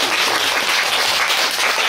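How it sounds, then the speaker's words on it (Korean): A crowd applauds in a loud, dense, unbroken wash of clapping that holds steady for the whole short stretch. "박수."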